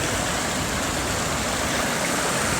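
Whitewater rapids at Great Falls on the Maryland side, a loud, dense, continuous roar of rushing water that stays steady without pause.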